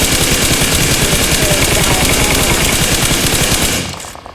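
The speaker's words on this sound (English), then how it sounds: "here we see Tilted firing with an M4, with Wilo also firing shots" Dense, rapid automatic M4 rifle fire in PUBG, with several guns shooting over one another in a continuous loud burst that cuts off abruptly near the end.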